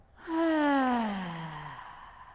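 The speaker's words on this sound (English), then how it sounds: "Take a big in breath and let it go" A long, deep exhale released during a yoga flow in an indoor hot yoga class, starting suddenly, swelling quickly and then slowly trailing off with a breathy, sighing tone, close and alone with no talk.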